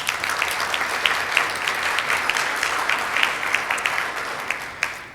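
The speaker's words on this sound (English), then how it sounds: "Let's give them a round of applause." A club meeting audience gives a steady round of applause for two guest speakers, many hands clapping together at moderate distance for several seconds, with a few sharper claps standing out near the end.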